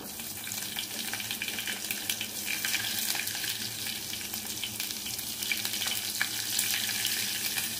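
Chopped onions frying in hot tempering oil with popped seeds for Telugu pappu charu, a steady close sizzle that holds throughout with faint clinks now and then.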